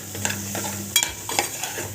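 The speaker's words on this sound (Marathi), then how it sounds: "हळद 1 पाव चमचा घालायची आहे आणि असं छान असं मस्त परतायचं आहे." A spatula stirs green chilies and capsicum sautéing in a pan with a pinch of turmeric, giving soft scraping strokes and light clinks over a low sizzle, brief and close.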